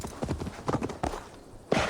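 Horse hooves in the video game Assassin's Creed Valhalla: rhythmic clip-clopping of a horse setting off at a trot, fairly close and steady, ending with a louder thud or snort.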